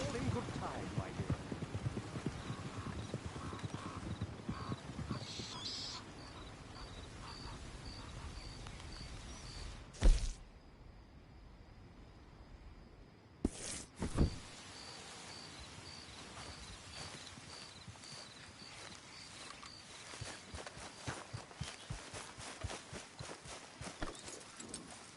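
Horse hooves clip-clop at a steady walking rhythm in Red Dead Redemption 2, mid-distance over light ambient game sound, with a brief pause partway through before the plodding resumes.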